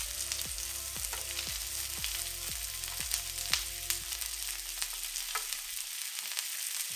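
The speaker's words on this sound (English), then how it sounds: "you can hear that sizzling" Onions and mushrooms sizzle and crackle steadily in a frying pan, a dense close hiss with repeated scraping stir strokes in the first few seconds, then the frying continues alone.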